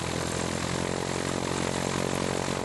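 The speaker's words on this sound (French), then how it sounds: "À 150 mètres du sol, un T6, avion école de l'armée française, des années d'après-guerre, salue les enfants." A T6 propeller trainer, a postwar French army school plane, flies low about 150 metres overhead with a steady, loud droning engine and propeller roar that holds throughout.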